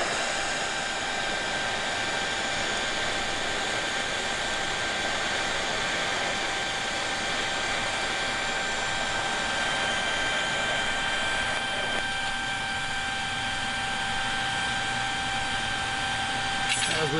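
TIG welding with filler rod on an ESAB Rogue 200i Pro, a steady even electrical hiss and hum running unbroken and fairly loud throughout, with a slight change in tone partway through.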